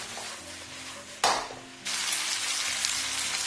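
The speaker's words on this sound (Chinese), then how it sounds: "将豆角给它炒至断身" Green beans stir-fried in a wok, a steady hiss of sizzling with a sharp burst of louder frying partway through, then a fuller continuous sizzle close by.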